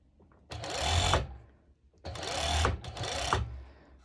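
A sewing machine stitches transparent elastic onto a mini skirt in two sustained runs, close and fairly loud, with a short pause between the bursts of whirring.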